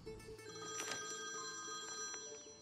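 A telephone rings with a steady electronic tone that holds for the whole short stretch. It sounds faint and slightly distant, with no talking over it.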